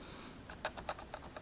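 Key presses on a Topre Realforce 104UB keyboard fitted with new keycaps: a handful of soft, muted clacks in an irregular rhythm, quiet and close against a faint background hiss.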